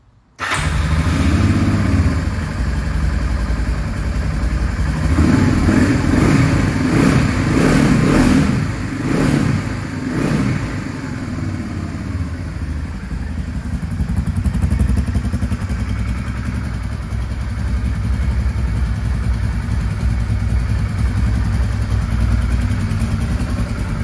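A 1988 Honda Africa Twin RD03 motorcycle engine starts and runs steadily, with a few throttle blips early on before settling into a loud, even idle close by, with no talk.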